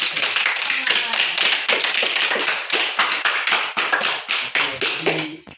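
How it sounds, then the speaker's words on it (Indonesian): Children clap and tap their hands together in a primary school classroom, a dense, lively patter of applause with a few voices mixed in near the end. "Oke, sekali lagi tepuk tangan untuk saya."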